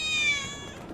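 A cat meows once in Final Fantasy VII Remake, a short rising-then-falling mew that fades quickly over a soft game ambience.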